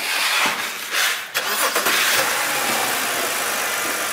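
A BMW E90 car engine cranks and catches, then settles into a steady idle with broadband rumble; no talking.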